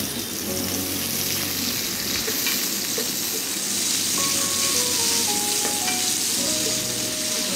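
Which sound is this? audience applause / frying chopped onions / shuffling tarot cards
frying chopped onions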